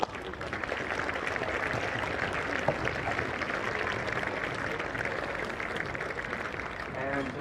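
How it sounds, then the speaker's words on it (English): An audience applauds steadily at the EY Champions Trophy hurling finals, a continuous patter of clapping held at a fairly even level for several seconds. "I'd like to give you guys a round of applause for this"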